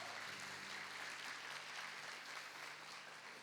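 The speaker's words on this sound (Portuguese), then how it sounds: "Palmas para ele, gente" A church congregation applauds during a prophetic service, an even wash of many hands clapping, quite faint and distant, with a low steady hum underneath.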